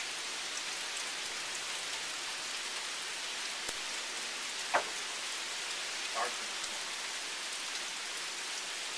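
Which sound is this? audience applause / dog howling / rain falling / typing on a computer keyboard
rain falling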